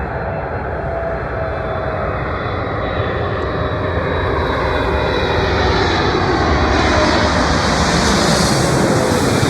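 A Boeing 777-300ER jet airliner at JFK roars with a loud, steady engine rush and hiss that swells slightly over several seconds, heard alone without talk.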